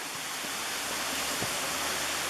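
A waterfall and flowing water on a mountain hike give a steady, broadband rushing hiss that stays even and continuous throughout, with no voices.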